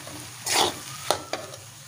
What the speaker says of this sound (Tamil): இப்போது நம்ம இந்த முட்டையை இந்த காய்கறி ப்ளஸ் மசாலாவோட கிண்டி